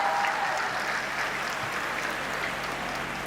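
An audience at a Hindi comic poetry gathering (hasya kavi sammelan) claps in a soft, steady wash of applause that sounds distant and fairly faint throughout.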